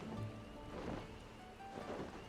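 Steady rain with low rumbling thunder in a Final Fantasy XIV game world, a continuous wash of rainfall throughout with soft swells of distant thunder.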